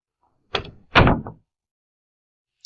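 Two quick rattling thuds of a locked door being tried, a short knock then a heavier shaking clatter, close and alone against silence.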